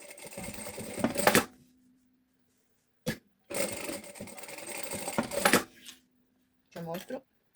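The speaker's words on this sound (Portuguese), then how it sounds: "E agora vamos passar uma costura aqui e outra aqui." A sewing machine stitches seams on a mother-and-daughter bag in two long close bursts of rapid mechanical whirring, separated by short pauses with a faint clunk, then a brief restart; a voice is heard only briefly.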